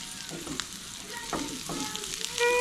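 Bite-sized peppers fry and char in a pan, a steady broadband sizzle with occasional stirring scrapes and a slight rise in intensity near the end; no talking.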